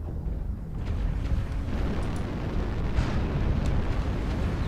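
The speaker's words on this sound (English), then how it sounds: "Airstrike online." Airstrike explosions rumble through a MechWarrior Online battle, a sustained, loud low roar of blasts swelling after the first second and rolling on without a break.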